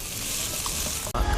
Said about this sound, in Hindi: मैंने इसमें डाला है 1 खाने का चमचा तिल का तेल, सारी सब्जियां डाल रही हूँ एक साथ।